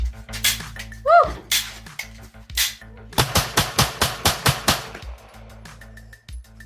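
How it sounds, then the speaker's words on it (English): Pistols fired at an indoor shooting range, with a few separate loud cracks followed by a rapid string of about a dozen closely spaced shots, sharp and close. "We got there and shot up our pistols"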